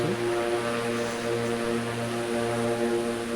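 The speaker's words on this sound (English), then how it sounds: "Thought I'd fly this aircraft today" A light propeller aircraft's engine drones steadily and loudly from inside or near the plane, a continuous buzzing hum with no pauses.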